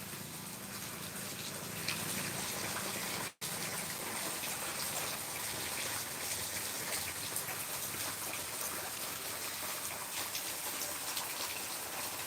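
Monsoon rain pours in a steady, dense hiss of drops on surfaces, broken by one very brief cutout, with no voices.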